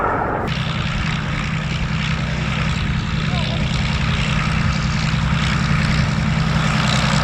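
A P-51 Mustang propeller engine at an air show, a steady loud droning roar with a sharp onset near the start, holding constant throughout without voices.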